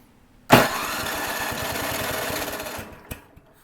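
Yard Machines snowblower engine with choke fully on and throttle partly open, catching abruptly and running at a loud, steady buzzing idle for over two seconds before cutting out, then a brief sputter.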